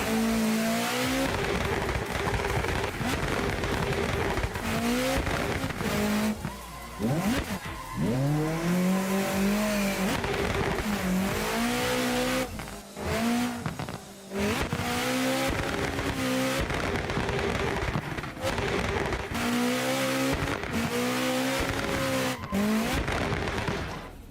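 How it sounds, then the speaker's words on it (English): A race car engine in a video game howls continuously, its pitch sweeping up and down through gear changes and revs with occasional tire squeal, loud and close throughout. "Car sounds like a popcorn machine"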